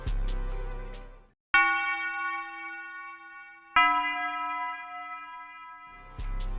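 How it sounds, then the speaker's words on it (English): Tubular bell sample in an FL Studio beat, pitched up with reverb: two bright, ringing strikes that sustain and decay slowly, with a short piano passage before and after. "And then of course I added the tubular bell"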